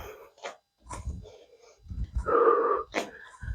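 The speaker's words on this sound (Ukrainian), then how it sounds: "На зусилля робимо видих." Breathy, forceful exhalations during a home pilates and stretching workout, several short puffs and one longer wheezy breath, close and moderately loud with no talk over them.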